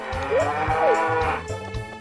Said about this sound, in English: So having a fully grown cow will let you milk it once a day.